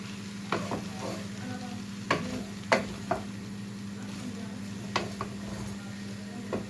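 Butter melting in a pan on a home kitchen stove gives a low, steady sizzle, broken by a few soft utensil clinks and scrapes against the pan, with a constant hum underneath.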